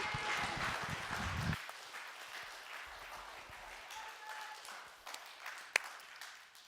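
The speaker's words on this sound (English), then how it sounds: "Can you guys please give Shanley a round of applause?" An audience claps in a loud round of applause that cuts off after about a second and a half, followed by quieter room sound with a few stray claps and faint voices.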